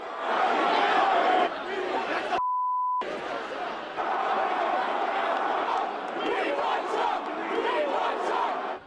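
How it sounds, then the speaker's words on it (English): Angry crowd clashing at a political event, a dense roar of shouting voices filling the scene, loud and continuous, broken by a brief electronic beep tone in the middle before the uproar resumes. "The clash continued even as the crowd spilled out onto the streets."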